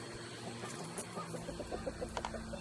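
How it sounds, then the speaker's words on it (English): A hen clucking in a series of soft, short, rhythmic clucks, faint and somewhat distant against low background hum. "I hear her, unless that's one of the other chickens."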